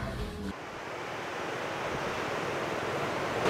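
Surf washing onto the shore at Klayar Beach in Pacitan, a steady broad roar of breaking waves close by with some wind buffeting, continuous and without voices.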